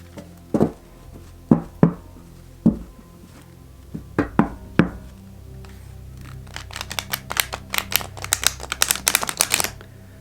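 A few separate card snaps and taps come first, then a rapid fluttering burst of stiff Old Gods Tarot cards riffle shuffling together, crisp and close.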